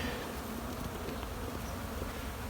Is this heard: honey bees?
yes